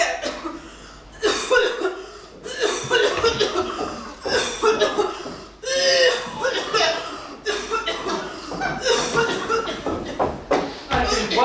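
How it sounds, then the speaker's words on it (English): A person coughs in harsh, racking bursts, repeated throughout and mixed in with speech and chuckling. "I have this racking cough that's a terrible"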